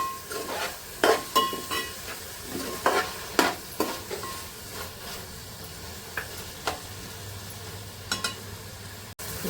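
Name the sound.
chopped coriander and tomato frying and being stirred in a pan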